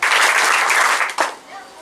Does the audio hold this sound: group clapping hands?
yes